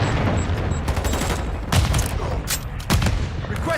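Bursts of rapid gunfire and heavy booms from a missile strike in the Modern Warfare video game, dense and continuous, with sharp explosive hits standing out near the middle and end.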